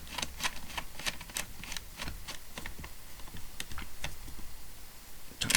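Rapid small ticking and clicking as a screw is driven into the suspension of a Tamiya Lunchbox RC car, close and crisp, repeating in quick irregular bursts over faint background hiss.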